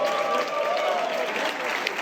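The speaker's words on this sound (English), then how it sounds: "one more round of applause for Pat Onstad." Supporters applaud at a Q&A event with the Houston Dynamo general manager, a steady, dense round of clapping that holds at an even level throughout.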